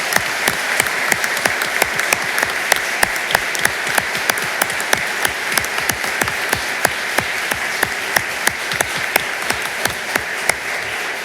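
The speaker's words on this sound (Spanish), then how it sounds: "Aplaudamos este logro." An audience at a swearing-in ceremony for new lawyers before the Supreme Court applauds steadily, a dense sustained wash of clapping with sharper individual claps standing out, continuing at an even level without talk.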